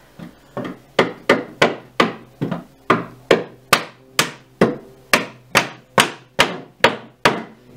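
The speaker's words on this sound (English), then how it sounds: "I'm actually going to get a hammer" A hammer knocks a wooden piece of a shabby chic wall-mounted china cabinet into place with about fifteen sharp, evenly spaced whacks, loud and close with nothing else heard.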